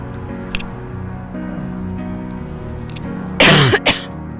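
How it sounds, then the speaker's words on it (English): An elderly man gives a short cough, a sharp double burst near the end that follows several seconds of quiet room tone with faint soft noises. "let me cough"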